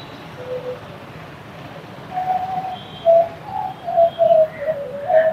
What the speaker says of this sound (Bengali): জানেন তো এখানে দেখুন পায়রাগুলো উঠছে